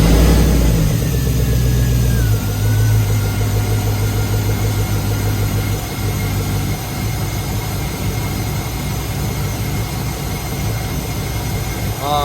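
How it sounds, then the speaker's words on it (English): A car engine cranks and catches, then runs at a steady, loud idle with a low, even rumble that fills the clip, during fuel injector and fuel pump checks with a scope connected. "We're going to go ahead and start the car up."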